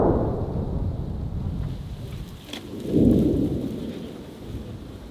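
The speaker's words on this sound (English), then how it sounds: "the sound of the artillery pounding the Kharkiv pocket is incessant." Deep booming rumbles of distant artillery fire near the Kharkiv front in Ukraine roll in from far off, one swelling near the start and another heavier one about midway, over steady windy noise.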